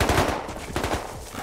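Rapid automatic gunfire in the video game Rust, a loud close burst of quick repeated shots that keeps firing with little pause.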